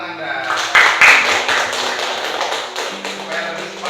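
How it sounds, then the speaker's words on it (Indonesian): A classroom of students claps for a classmate, a burst of loud, quick handclaps that soon thins to scattered, lighter taps, with a voice speaking over it. "tepuk tangan dulu buat Nanda"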